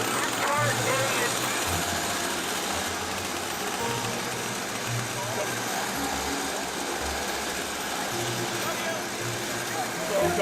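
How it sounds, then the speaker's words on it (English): A car engine in the Gran Turismo racing game starts and idles as a steady, low, pulsing drone that runs through the whole stretch, with voices talking faintly over it. "we're doing start engine"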